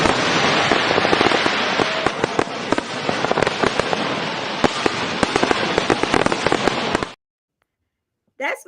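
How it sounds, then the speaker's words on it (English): A fireworks sound effect plays during a livestream, giving about seven seconds of loud, dense crackling and popping bursts that stop abruptly. A brief faint sound follows the silence. "We do our little fireworks over here."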